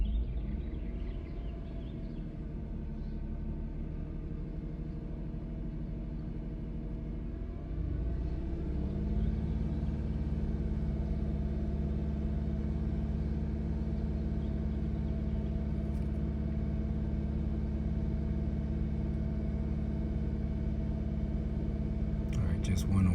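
A 2005 Chrysler 300 engine idling roughly with a cylinder misfire, then rising to a louder, steadier hum as it is given gas partway through; quiet voices murmur faintly in the background.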